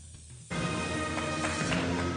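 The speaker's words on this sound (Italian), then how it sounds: "Allora, proviamo a friggere." Sage leaves hit hot fat in a pan and begin frying, a sudden loud sizzle that starts after a quiet half second and crackles on steadily.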